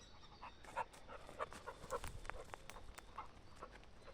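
A dog pants in quick, soft breaths on a forest hike near Blois, with faint scuffs and rustling on the trail around it and no one speaking.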